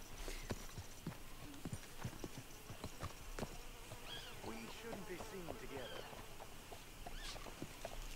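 Horse hooves clip-clop at a steady walking rhythm while riding in Red Dead Redemption 2, close and moderately loud, with insect-like buzzing and other ambient game sounds around them.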